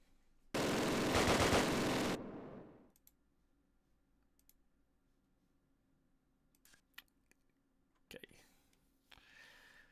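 Gunfire in the Close Combat Last Stand Arnhem wargame bursts out as a loud, dense volley lasting under two seconds, then gives way to quiet clicks and faint scattered noises, with a further short crackle near the end.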